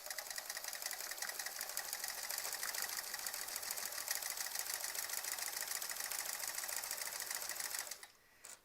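A domestic sewing machine quilting a Splendid Sampler 2 quilt runs steadily and close for about eight seconds with a fast, even needle rattle, then stops abruptly, leaving a brief faint click.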